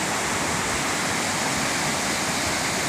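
Amritdhara waterfall in Chhattisgarh roaring as a constant, dense rush of falling water, loud and unbroken throughout with no voices over it.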